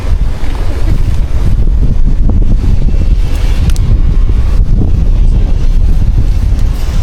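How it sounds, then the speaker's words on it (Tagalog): Strong wind buffets the microphone outdoors on a ginger farm, a loud low rumble that carries on for the whole stretch with no voices. "mahangin naman"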